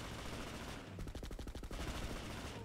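A submachine gun fires one rapid burst of about a dozen shots in an online video game match, loud and close over busy game noise.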